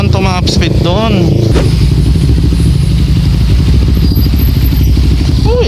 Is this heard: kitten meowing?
no